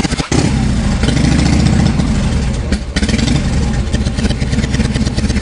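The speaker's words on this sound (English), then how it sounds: "trying to start the engine by pressing the start button" A simulated 8-cylinder engine being started by button press, catching almost at once and settling into a loud, steady rumbling idle with a clattering mechanical texture, alone without talk.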